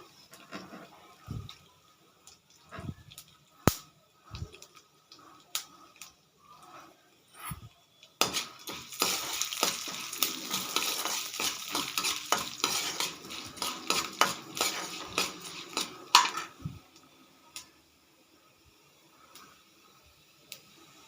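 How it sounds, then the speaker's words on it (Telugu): Half a teaspoon of fenugreek seeds roasting in a pan on a low flame, scattered clinks of a spoon stirring against metal, then a stretch of rattling, rustling seeds and soft sizzle before quieter taps. "ఇవి మాడకుండా సన్న సెగ మీద వేపుకోవాలి."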